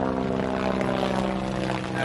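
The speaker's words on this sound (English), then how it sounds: "Actually, got a helicopter passing now." A helicopter passes overhead at a baseball game, its engine and rotor making a loud, steady droning hum that fills the whole moment with a dense, continuous roar.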